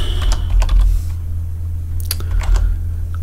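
Computer keyboard typing while code is entered in a C# Windows Forms programming session: quick irregular bursts of key clicks, close and fairly loud over a steady low electrical hum, with no speech.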